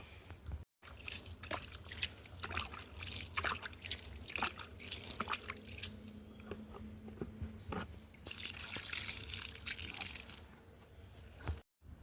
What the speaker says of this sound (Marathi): असं प्रत्येकावर पाणी शिंपडून घेऊ